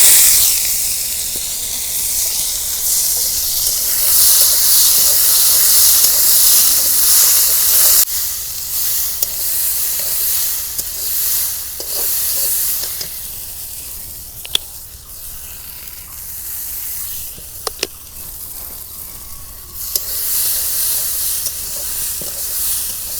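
Oil heats in a wok on a stove for a Bangladeshi fish and potato curry, giving a steady, bright hissing sizzle that lasts throughout, with a few faint clicks and taps and no talking.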